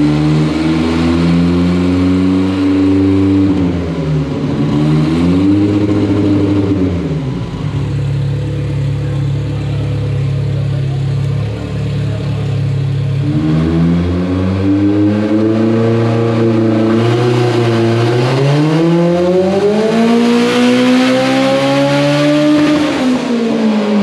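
A turbocharged Mitsubishi Eclipse being tuned on a dyno, its engine revving loudly and steadily with the pitch climbing, dropping and climbing again across several long pulls. No voices are heard.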